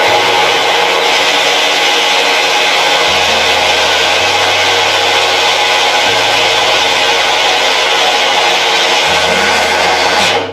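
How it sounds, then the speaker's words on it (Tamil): A kitchen mixer grinder blends sesame seeds with jaggery in a loud, steady whir, its motor pitch stepping up and down in a few stages before cutting off near the end, with no talking. "இது வந்து கொஞ்சம் நிறைய அரைச்சிட்டு அந்த எள்ளில் இருக்கிற அந்த எண்ணெய் கண்டென்ட்டோட வெல்லம் வந்து மிக்ஸ்"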